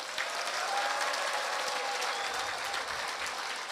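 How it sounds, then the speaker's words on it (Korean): A packed Saturday lecture hall at a political party event breaks into sustained, even applause from a large crowd, loud and continuous from start to finish. "우리 다 같이 화합하는 큰 박수를 주시기 바랍니다."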